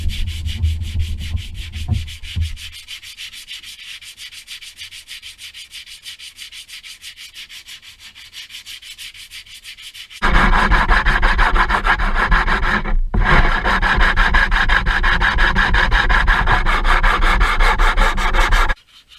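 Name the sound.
sanding hardened body filler on a vintage racecar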